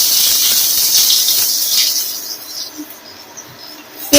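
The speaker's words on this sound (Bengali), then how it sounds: "এবার এই তেলের মধ্যে আমি পেঁয়াজ কুচিগুলো দিয়ে দেবো।" Chopped onions hit hot mustard oil in a pan after potatoes are fried, setting off a loud, bright sizzle that gradually calms to a softer crackle, with no talking.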